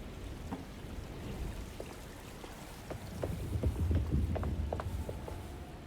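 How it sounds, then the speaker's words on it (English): Storm rain in Alone in the Dark falls as a steady soft hiss with scattered drips and taps and a low rumble swelling toward the end, fairly faint overall. "Looks like a storm's coming"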